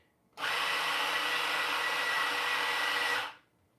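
A Turin ZF83 commercial espresso grinder grinds coffee with a steady, loud motor whir that starts abruptly, holds for about three seconds and then spins down.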